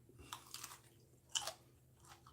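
Crisp crunchy bites into a thin-walled Coffee pepper, close up: a few sharp crunches spread over two seconds with soft chewing between, no talking.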